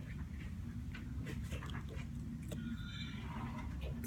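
A dog whimpers and pants close to the microphone. Soft, brief high whines come at intervals over a steady low background, and the sound is faint overall.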